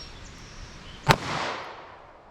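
A single sharp gunshot from a snub-nose revolver firing a Federal .38 FBI load, loud and close, followed by a rolling outdoor echo that fades over about a second.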